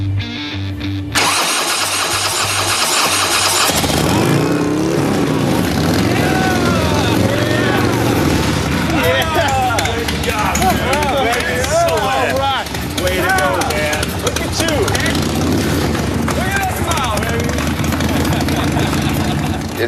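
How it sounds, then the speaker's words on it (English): A custom Harley motorcycle engine at the Arlen Ness shop cranks, catches and roars to life, then runs loud and uneven with revving surges throughout, while people talk over it. "So let's turn it over and see if she lives."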